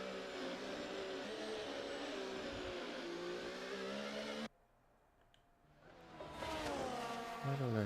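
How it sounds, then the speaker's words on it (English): Racing car engines in the F1 24 video game, a loud sustained high whine of revving that cuts out abruptly, drops to near silence, then swells back up as the engines accelerate again. "Can you hear the engines and stuff?"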